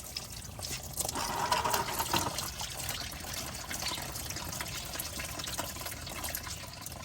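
Washer fluid draining from a BMW 328i E90 into a bucket, a steady trickling, splashing stream of liquid heard alone at moderate loudness.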